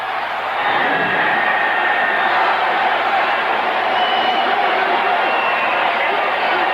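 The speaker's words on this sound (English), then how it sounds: "Listen to the people cheering." Stadium crowd at a football game roars in a broad, steady wash of cheering that swells after a brief quieter start and holds loud throughout.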